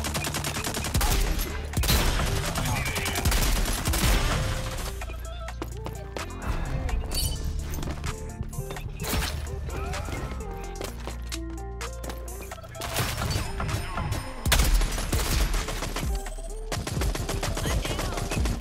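Gunshots in the video game Rogue Company, dense repeated bursts and single shots cracking loudly throughout a busy mix of game sounds, with voices heard at times.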